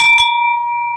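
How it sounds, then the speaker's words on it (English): A bell rung to celebrate landing a sales lead gives one loud, bright strike whose clear metallic tone rings on steadily for about a second, alone with no talk. "Let's ring the bell for that."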